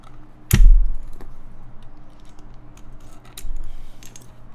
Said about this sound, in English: That's what that one sounds like with the ABS spacebar.